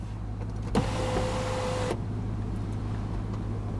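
The moonroof motor of a 2011 BMW M3 hums steadily for about a second as the glass tilts open, then cuts off cleanly, heard from inside the cabin over a low idle drone.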